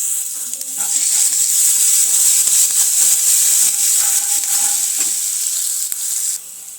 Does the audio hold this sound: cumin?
yes